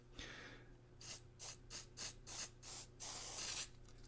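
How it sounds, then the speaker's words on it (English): A can of cold cleaning spray hisses in a series of short, close bursts, several quick puffs followed by one longer spray near the end, with no talking. "Like when you spray it, it gets freezing"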